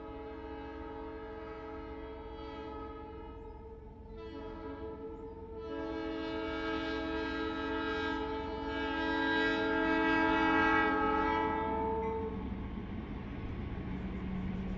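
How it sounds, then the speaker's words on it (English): A train rolls past close by, its rumbling wheels steady throughout while a loud sustained horn blares in long tonal blasts, swelling strongest near the middle before easing off. "I have a train coming by again. I'm going to wait until it passes"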